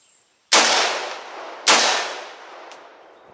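A Smith & Wesson M&P 15 rifle fires two loud, sharp shots about a second apart at an outdoor target, each crack trailing into a long echoing decay.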